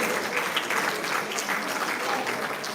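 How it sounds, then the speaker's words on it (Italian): Audience at an interregional youth boxing event in Veneto applauds steadily, a dense, even wash of many hands clapping that holds at the same level throughout, with no voices standing out. "un grande applauso cortesemente per Laura Brusa e per Rodolfo Popolato"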